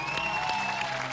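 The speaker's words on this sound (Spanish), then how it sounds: "Démosle un aplauso" A studio audience claps in a brief, dense burst of steady applause filling the whole moment, even in loudness from start to finish.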